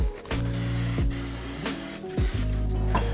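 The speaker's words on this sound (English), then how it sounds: "always spray whatever you're gonna be cooking and to put it on the grill" Cooking spray hisses onto a grill in several short bursts over a low electrical hum, close and loud, with brief gaps between sprays.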